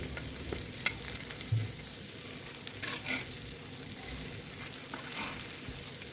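Eggs fry on a flat iron tawa over a low gas flame, a faint, steady sizzle with occasional soft scrapes and stirs, close and quiet with no talking.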